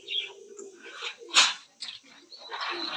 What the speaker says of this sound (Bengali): এখানে খুব সুন্দর একটি জোড়া কবুতর